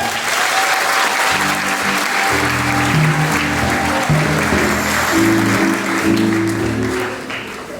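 A church congregation applauds at a sanctuary Mass as an engaged couple stands during the marriage announcements; steady, full applause fills the space for about eight seconds while organ or keyboard chords sound underneath.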